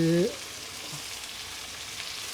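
Chopped onions fry in oil for chole, giving a steady, close sizzle after a brief voice at the start.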